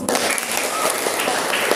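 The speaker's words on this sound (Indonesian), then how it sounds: "Tepuk tangan untuk Minasang." Classroom applause for students after a negotiation role play, a brief, steady burst of many hands clapping together.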